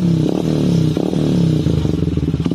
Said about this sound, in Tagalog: Rev natin dito.